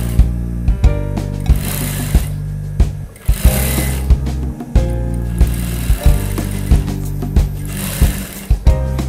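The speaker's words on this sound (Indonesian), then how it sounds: "Sekarang kita mulai menjahit dengan cara ditahan di bagian depan." A sewing machine stitching a back-zip dress runs in a loud, steady mechanical whir with a rhythmic needle chatter and periodic sharp clacks, pausing briefly midway before resuming.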